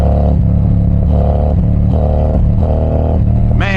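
A motorcycle fitted with a Chromeworks 2-into-2 exhaust revs in short repeated bursts close by, a deep throaty pulsing that rises and falls about four times before a final sharp blip.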